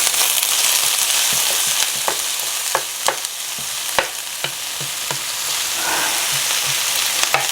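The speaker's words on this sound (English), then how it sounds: "I'm going to fry these for a couple of minutes" Onions frying in oil in a pan, with a steady sizzle close by and irregular sharp knocks of a utensil stirring against the pan through the whole stretch; no talk.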